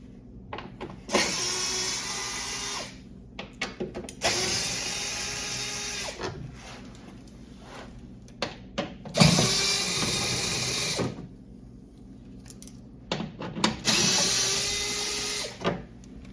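Underbelly pan bolts of 8 mm coming off a Mercedes GLK 250 diesel with a power tool, four loud bursts of whirring separated by short pauses, close up, with clicks and handling noise between them.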